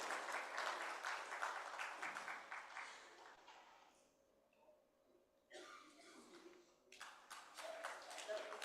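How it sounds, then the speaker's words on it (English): At an award ceremony of a national healthcare summit in India, an audience gives faint, distant applause for a winning team, with scattered claps that fade into near silence and then return. "Please give a round of applause to the Siemens Healthcare team making their way up to the stage."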